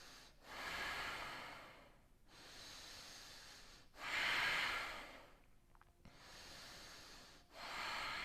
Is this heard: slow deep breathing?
yes